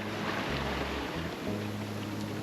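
Broad rushing wash of a large ocean wave sweeping past a sailboat offshore, steady and loud throughout with low hull and engine rumble beneath, no voices.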